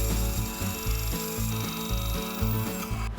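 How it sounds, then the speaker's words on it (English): A bandsaw cuts a sailboat shape out of wood, its steady motor hum broken by repeated rhythmic low pulses as the blade bites, close and loud, with no talking. "we're just going to take that to the bandsaw and cut it out"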